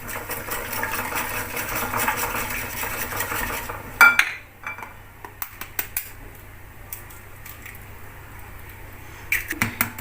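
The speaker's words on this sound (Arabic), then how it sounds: "هحط معلقه الدقيق، هقلبها كويس، معلقه البيكنج باودر" A flour and baking powder mixture stirred in a bowl with a spoon, quiet scraping and clinking, with a sharp clatter near the middle and a few scattered taps afterward.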